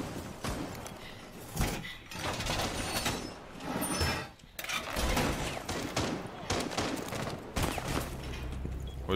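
Gunfire in a tactical shooter match: bursts of loud shots and impacts crackle through several seconds of noisy action, close and harsh, with brief lulls between volleys.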